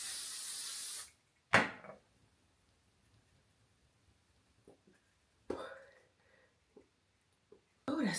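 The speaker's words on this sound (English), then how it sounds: "But I did want to test out this setting spray anyway" Setting spray misted from a pump bottle, heard as a few short, sharp hissing bursts at close range separated by quiet pauses, with faint breathing between them.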